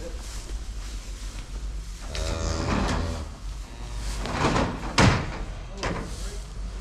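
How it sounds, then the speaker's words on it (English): A barn door is opened, with creaks, rattles and a sharp knock or clunk partway through, among other handling noises nearby. "If you open that door."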